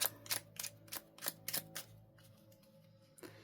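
Tarot cards are shuffled by hand in a quiet room, a series of sharp crisp riffling snaps in quick succession, then a pause and one more faint snap.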